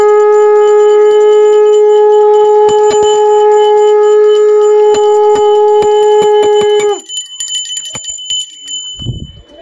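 A bell rings loudly and alone in a home, its sustained metallic tone fading for about seven seconds while repeated sharp strikes ring on, followed by brief rustling handling noise.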